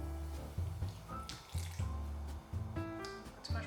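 Water poured into a bowl for making matcha trickles and splashes in several short bursts, close and fairly soft, with a low hollow resonance.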